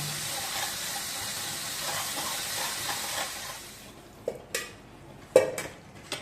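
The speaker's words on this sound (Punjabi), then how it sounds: "ਹੁਣ ਦੇਸੀ ਦੁੱਧ ਪਾ ਲਾਂਗੇ ਦੁੱਧ ਪਾ ਕੇ ਨਾ ਇਦਾਂ ਮਿਕਸ ਕਰ ਲੈਣਾ" Milk being stirred into a roasted mixture for a sauce in a pot, with a steady sizzling, bubbling wash for the first few seconds, then quieter gaps broken by several sharp clinks of a utensil against the pan.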